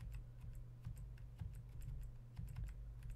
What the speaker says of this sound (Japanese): 今キーボードを落としてる、動かしてる音だけしてるんですけど